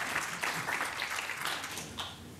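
A conference audience applauds in a hall, continuous mid-level clapping from a crowd that stays steady without a voice over it.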